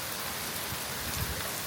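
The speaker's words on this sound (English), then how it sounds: "There you go, here's the rain." Rain comes down outdoors while a Range Rover is being detailed, a dense, loud, continuous hiss of falling drops with a faint low rumble beneath, alone without voices.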